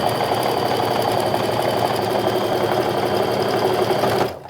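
A sewing machine stitching an eighth-inch seam around raw edges of a fabric wallet, a steady fast mechanical whir and rattle running continuously for about four seconds before stopping.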